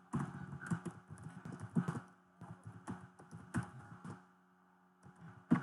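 Typing on a computer keyboard while entering multiline text in AutoCAD 2021: irregular bursts of close, clicky keystrokes with short pauses between runs, alone without talk.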